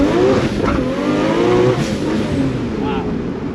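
A Nissan R32 GTR with an HKS 2.8 restomod engine revs hard and accelerates, its loud, rising engine note close by and continuous throughout, with voices faintly mixed in.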